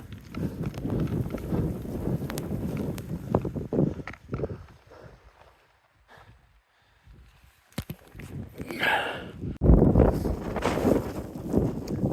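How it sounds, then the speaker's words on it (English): Strong wind on a snowy hilltop buffets the microphone in loud, rumbling gusts that fade to near quiet midway and then surge back, with a few crunching footsteps. "The wind's blowing pretty good."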